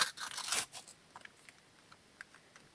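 A quick, crinkly tear as a plastic collectible dinosaur packet is ripped open, followed by a few soft rustles and crackles.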